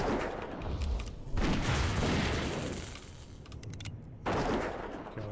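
Dwarf hunter's gun firing in World of Warcraft Classic while fighting a Frostmane Seer, heard as loud, dense bursts of game gunfire and impacts over busy battle effects, with two sharp onsets and no talk.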